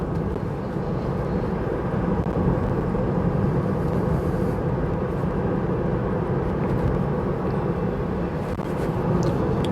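A Tesla on FSD Beta drives along a road at sunset, with a steady broadband cabin rumble of road and wind noise, continuous and unchanging with no talking.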